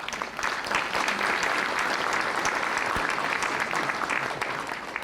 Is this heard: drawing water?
no